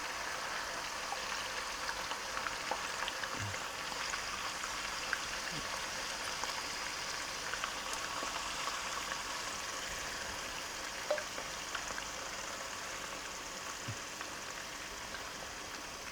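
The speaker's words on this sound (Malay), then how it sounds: "Okey, kita boleh gorengkan daging yang kita dah perap tadi" Marinated beef frying in hot oil in a home kitchen, a steady broadband sizzle and hiss running throughout at moderate level with a few faint pops and clinks.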